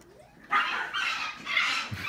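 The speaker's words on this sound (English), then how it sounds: "What's that dog doing?" A dog barks three times in quick succession at close range. The barks are moderately loud against a quiet background.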